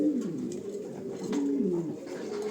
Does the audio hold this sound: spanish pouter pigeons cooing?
yes